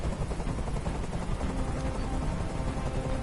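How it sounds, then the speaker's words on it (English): A helicopter hovers in the video game Detroit: Become Human, a dense, steady rotor roar filling the scene at even loudness throughout, with no voices. "I can't stand that noise anymore. Tell that helicopter to get out of here."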